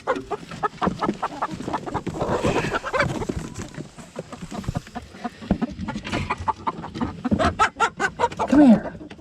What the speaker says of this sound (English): It's kind of hard to catch a chicken with one hand.